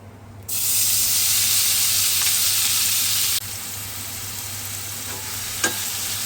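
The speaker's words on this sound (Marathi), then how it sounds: "कांदा परतून घ्या थोडा गुलाबी रंगाचा येईपर्यंत." Chopped onions with asafoetida in hot oil start frying with a sudden loud, bright sizzle, close and continuous, easing slightly as they are stirred, with a small clink near the end.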